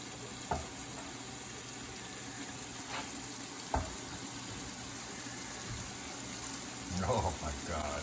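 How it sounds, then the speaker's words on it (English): Onions, garlic and fresh basil fry in a pan with a faint, steady sizzle, broken by a few sharp clicks and knocks and a brief splashy rattle near the end. "Let it fry up for a sec."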